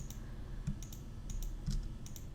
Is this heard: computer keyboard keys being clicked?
yes